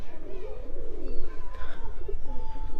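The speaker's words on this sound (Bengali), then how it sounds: "একটা একটা করে সব কবুতরগুলো আসছে" Pet pigeons coo as they gather one by one to feed. The low, rolling cooing is close and continuous, with a person's voice faintly mixed in.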